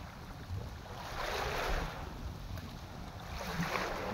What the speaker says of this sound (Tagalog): Yan ang dagat.